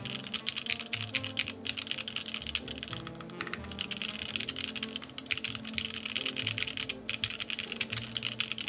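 Rapid, continuous typing on a G67 Element mechanical keyboard fitted with foam, soft muted clacks at a steady fast pace, recorded up close with no voices.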